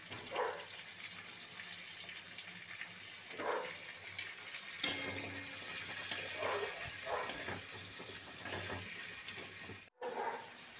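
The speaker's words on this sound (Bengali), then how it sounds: "আলুগুলো একটু ভাজা হোক" Seasoned potatoes fry in a pan with salt and turmeric, giving a steady, faint, close sizzle and the occasional stir or clink throughout, with no talking.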